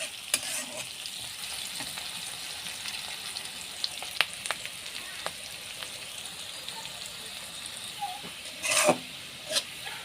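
Onion and chili frying in oil until browned, a soft constant sizzle like light rain with scattered ticks and scrapes of stirring, then a couple of louder scraping strokes near the end.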